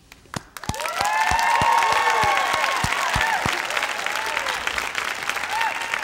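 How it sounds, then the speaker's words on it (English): A crowd at the Oregon Tech 2020 College of Engineering commencement ceremony breaks into sustained applause, rising quickly into dense, steady clapping with a few loud nearby claps and some cheering, holding strong to the end. "give a loud, proud round of applause for all of our graduates"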